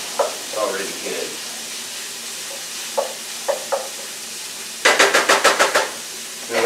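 Sloppy joe ground meat and vegetables sizzle in a pan while being stirred, soft scraping strokes at intervals followed by a quick run of sharp clacking taps, moderately loud and close.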